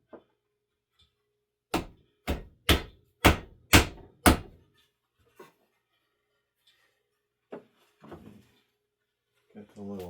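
A small hammer strikes a wooden block six times in quick, evenly spaced, sharp knocks while a footstool is being built, followed by a few scattered softer taps and brief speech nearby.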